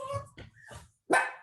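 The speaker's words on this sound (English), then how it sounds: "My dog is being annoying." A dog indoors gives a few short, sharp barks and yips, then a higher whimpering cry, loud and close, in separate bursts with pauses between.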